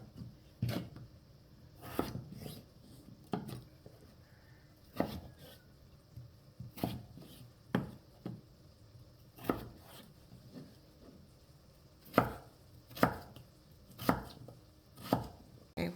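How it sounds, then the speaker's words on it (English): A knife dices peeled potatoes into cubes on a cutting board, giving irregular, crisp, close chops and taps spaced a second or so apart with quiet gaps between. "we're going to cut the potatoes up into cubes"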